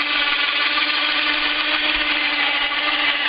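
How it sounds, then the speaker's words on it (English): A remote-controlled winch lifts the drill of a deep well drilling rig on its wire, giving a steady motor whine and hum that holds constant throughout and sounds close. "So I've got a remote then for the winch,"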